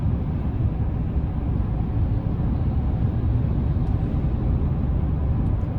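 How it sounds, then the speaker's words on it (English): Steady low tire and road rumble inside a 2025 Chevy Silverado 1500 LT Trail Boss TurboMax pickup cruising on pavement, a constant broadband hum with no talk. "road noise, you can just hear the tires hitting the pavement just a tad"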